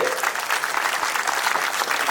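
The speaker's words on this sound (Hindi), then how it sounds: "यशस्वी प्रधानमंत्री के लिए ताली बजाएं जोरदार तरीके से।" Loud, sustained applause from an audience clapping for the Prime Minister, dense and even throughout with no pauses.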